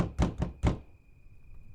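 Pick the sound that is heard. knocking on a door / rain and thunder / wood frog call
knocking on a door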